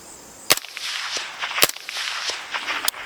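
Three sharp supersonic cracks from a suppressed 5.56 rifle fitted with an Exigent Defense Vanish suppressor, spaced about a second apart, each a brief bright snap over a steady outdoor range background.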